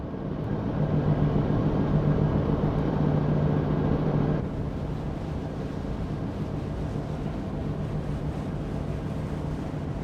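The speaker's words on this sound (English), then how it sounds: "You can hear the wind and the waves." Steady wind rush and wave wash while sailing away from the engine, a dense continuous roar close to the microphone that eases slightly partway through, with no voices.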